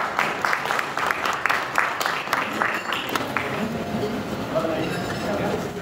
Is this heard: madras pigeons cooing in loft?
no